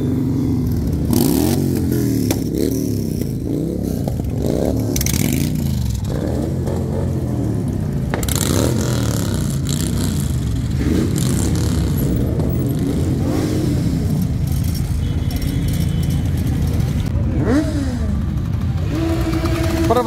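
Motorcycles set off together on a First Mile group ride through Liptovský Mikuláš, engines revving and idling close by in a continuous rumble, with bikes pulling away one after another and rising throttle sweeps.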